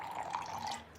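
Gin is poured into a glass, a soft, faint liquid trickle lasting about a second in a quiet room.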